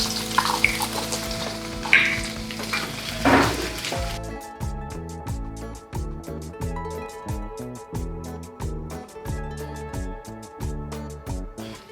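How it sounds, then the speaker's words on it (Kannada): Eggs frying with vegetables in a pan for egg fried rice: a close, hissing sizzle with a few utensil clinks at first, then a softer sizzle beneath loud rhythmic music. "ಡೈರೆಕ್ಟಾಗಿ ಎಗ್ ಹಾಕ್ತಾ ಇದ್ದೀನಿ. ಎಗ್ ಹಾಕ್ಕೊಂಡೆ, 2 ಎಗ್ ಹಾಕ್ಕೊತಾ ಇದ್ದೀನಿ."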